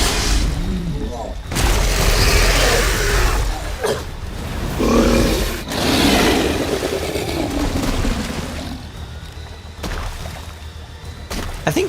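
Grenade explosion in the video game Resident Evil Village, a loud deep boom with rumbling aftermath amid ongoing game noise and someone speaking.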